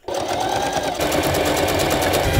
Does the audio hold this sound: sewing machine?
yes